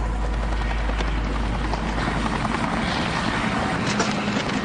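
An aircraft roars as it takes off for a flight, a loud, steady, dense engine rumble that holds without letup, with no voices over it.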